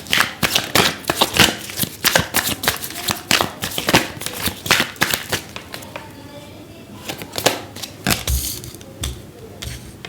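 Tarot cards are shuffled and dropped in rapid, crisp riffling bursts that slow toward the end, heard close up, with a few louder slaps as cards fall.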